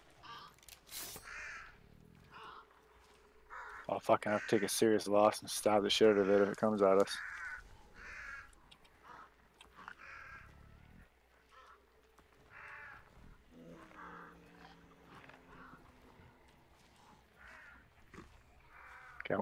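Crows caw in the game Hunt: Showdown, a burst of harsh, loud calls clustered in the middle, with someone talking before and after over a quiet outdoor background.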